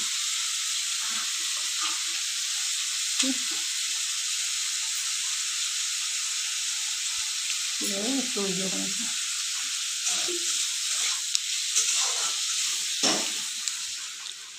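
Potatoes frying in a pan, with a steady loud sizzling hiss throughout and occasional stirring clinks, while someone speaks briefly now and then.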